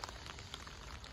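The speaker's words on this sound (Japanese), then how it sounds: "ご覧の通りそこそこの雨が降っています。" Moderate rain falling on the covered turf pitch at a cricket ground in Japan, a dense, steady patter and hiss of drops, close and continuous with no voices.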